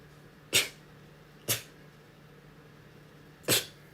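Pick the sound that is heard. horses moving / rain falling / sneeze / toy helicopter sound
sneeze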